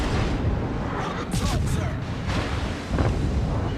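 Heavy naval guns from a warship firing armor-piercing shells in World of Warships, with dense rumbling booms and bursts layered over constant battle noise, while a voice talks throughout.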